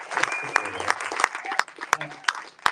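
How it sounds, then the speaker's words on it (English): Scattered, sharp claps from a small audience at a books and podcast entertainment event, heard in separate bursts with voices talking in between. "Give that a round of applause."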